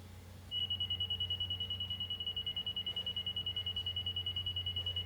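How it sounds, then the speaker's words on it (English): A LAX200 Pro Liner laser receiver emits one steady, continuous high-pitched tone that starts about half a second in and holds unbroken, signalling it is lined up on the beam, over a low background hum. "even as I drop it in here, you'll hear that it's going to give me an even tone when I hit 0."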